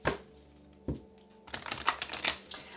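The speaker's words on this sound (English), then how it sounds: "All right, last shuffle." Tarot cards being shuffled by hand during a reading, opening with a couple of sharp single taps and then a dense, rapid riffling flutter for the last second or so, close and alone.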